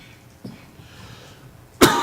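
Two bursts of throat clearing and coughing from a lecturer, a short muffled one early on and a louder, sharper cough near the end, close to the microphone with no talk.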